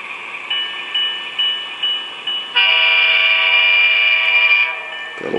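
A model railroad locomotive with CN sound sounds its horn: several short toots, then one long sustained blast, loud and close, ending with a low mechanical thump.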